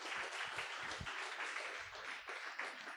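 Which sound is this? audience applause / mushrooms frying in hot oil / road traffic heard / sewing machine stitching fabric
audience applause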